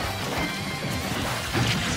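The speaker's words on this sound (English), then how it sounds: "And down smashed again." Heavy smash impacts from Super Smash Bros. Ultimate tournament play at SmashDown Ultima, a loud burst of hits standing out near the end over constant game and crowd noise.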